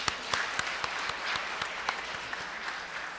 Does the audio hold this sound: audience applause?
yes